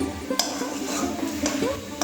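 A coconut and jaggery mixture being pressed and stirred in a pan over low flame, close scraping and soft clinks of a utensil against the pan in an uneven rhythm.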